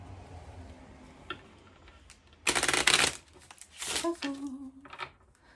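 Oracle cards are shuffled by hand in two short bursts of riffling and slapping, close and fairly quiet, with soft handling noises between.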